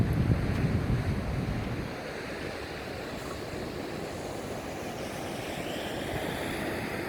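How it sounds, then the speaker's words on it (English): Big sea waves crash onto a beach in a constant heavy roar, blended with strong wind buffeting the microphone, loudest at the start and then settling into a steady wash. "Waves bashing their way in."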